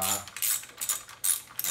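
A ratchet with a 10 mm socket clicks in quick bursts while backing bolts off a Toyota Camry, close and fairly quiet, with short pauses between strokes.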